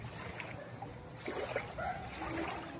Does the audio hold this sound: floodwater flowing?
yes